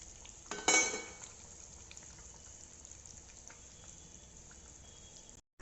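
Water hits a hot pan of small potato curry with a sudden loud hiss that fades into a quieter simmering sizzle, a few light utensil clinks and a faint voice underneath.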